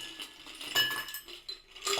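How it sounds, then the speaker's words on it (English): Ice cubes dropped into a glass for a Prosecco-based Roman-inspired drink, giving a few light clinks and clatters in quick bursts, close up with no talking. "a bit of ice, maybe a little bit more,"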